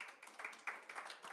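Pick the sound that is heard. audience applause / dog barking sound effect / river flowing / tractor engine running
audience applause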